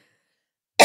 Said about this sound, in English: Now, I ain't coughed one time till I start talking to you.